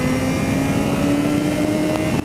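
Yamaha XJ6 Diversion motorcycle engine droning steadily while riding, a loud, sustained tone that holds near constant pitch with wind rushing over it, ending in a brief drop.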